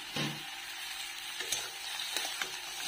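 Fish heads added to half-fried cabbage in a pan, giving a quiet, continuous sizzle with occasional soft clinks and scrapes of stirring.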